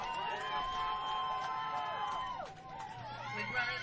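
A Virginia crowd cheers at a youth machine-pitch baseball championship game after going up 2-0, a sustained wash of excited shouting and chatter that dips briefly near the end, then swells again.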